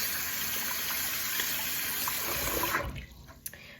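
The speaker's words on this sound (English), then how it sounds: "we're gonna wash our hands" Hands are washed under a running tap, a steady close rush of water that cuts off near the end, followed by a few faint drips and movements.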